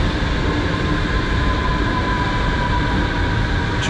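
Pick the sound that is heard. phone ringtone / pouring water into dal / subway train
subway train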